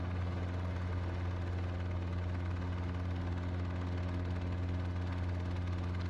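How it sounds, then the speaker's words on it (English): Robinson R22 helicopter engine and rotor in the X-Plane 11 flight simulator, a steady low droning hum with a rapid, even blade throb, loud and unchanging throughout with no talk. "We're flying the Dreamfoil R22 in X-Plane 11 with a BaltimoreXP scenery package loaded."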